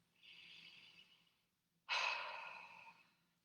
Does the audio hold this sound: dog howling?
no